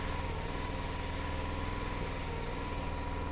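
A warmed-up engine on a firewood-splitting setup idles steadily, a close, continuous droning rumble with even low pulsing and no change in pace.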